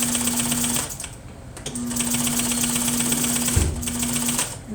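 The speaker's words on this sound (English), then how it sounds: "So I'm sewing a ½ inch away from the edge all the way down to this bottom." A sewing machine stitching a half-inch seam allowance down a fabric edge, a loud close mechanical whirr with a steady rapid needle rhythm, briefly pausing and easing off twice before running again.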